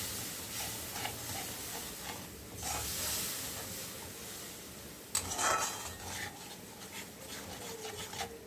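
Spice masala with Kashmiri red chili powder fries in oil after the water used to rinse the spices is poured in, giving a steady close hiss and sizzle with a sharper burst midway, along with occasional scraping.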